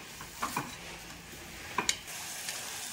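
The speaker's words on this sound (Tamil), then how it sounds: "முருங்கைக்கீரை ரொம்பலாம் வேகக்கூடாதுங்க, லைட்டாக ஒரு 2-3 நிமிஷம் தான் வதக்கி விட்டேன்" Drumstick leaves sautéing in a pan for a quick two or three minutes for soup, with a low steady sizzle under a few sharp scraping stirs of a spatula against the metal.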